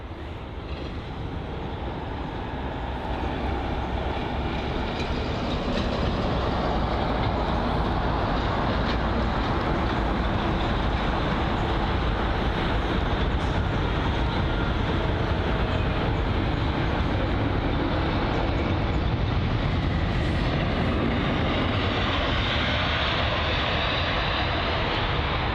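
Jet engines of a Scandinavian Airbus A320neo at London Heathrow, a loud, continuous broadband roar that swells in the first seconds and then holds steady for the rest of the stretch.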